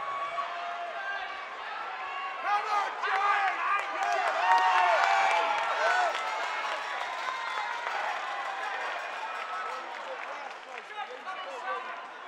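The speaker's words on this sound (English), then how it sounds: "the crowd here are at fever pitch" A packed crowd at a WFS3 fight event between Jake Bostwick and Patrick Vallee, a dense roar of cheering and scattered clapping that swells mid-clip and then eases, with a voice speaking underneath.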